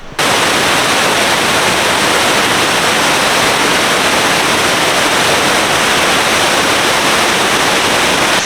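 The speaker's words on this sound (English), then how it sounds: "Well, that's one of the best waterfalls I've ever seen." A waterfall at the end of a jungle trail near Luang Prabang gives a loud, steady, broadband roar that fills the whole stretch without pause, with no talking.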